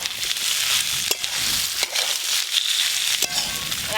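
Fried mixed winter vegetables hit a pan of well-cooked spices with a steady, loud sizzle, broken by a few sharp stirring scrapes and knocks, up close with no talking.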